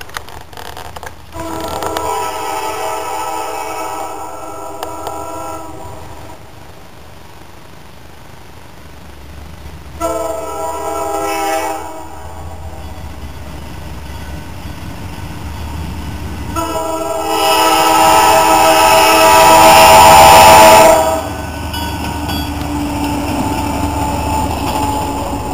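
An Ohio Central freight train hauling short gondolas rolls past with a loud, drawn-out horn blasting over the rumble and clatter of the cars.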